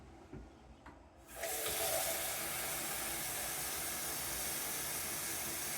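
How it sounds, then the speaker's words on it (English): Warm water pours from a tap into a container of wool for solar dyeing, a steady broadband hissing rush that starts abruptly after a quiet moment and continues evenly and close. "Just add more water to that one."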